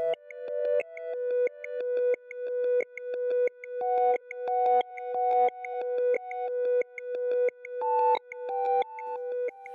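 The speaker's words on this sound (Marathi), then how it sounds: "रिंग तर होतीये, उचलत का नाहीये फोन?" An outgoing phone call plays a repeating melodic ringback tune, a series of short tonal phrases in a steady rhythm, clear and alone.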